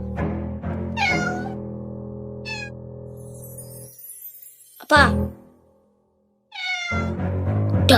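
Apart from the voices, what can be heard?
cat meowing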